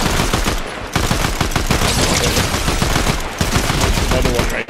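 Rapid, loud gunfire from the video game Fortnite in a Zero Build squads match, a dense run of close shots in quick bursts that fills the whole stretch with only brief gaps.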